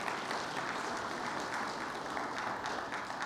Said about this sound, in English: just another round of applause for that wonderful panel